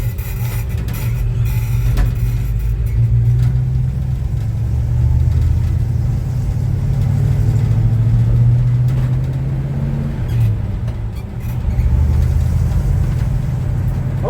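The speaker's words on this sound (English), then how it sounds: "Truck runs great" A 1966 Chevy C10 pickup's engine idles steadily, a loud, continuous low rumble with slight swells in revs, close by with no talking.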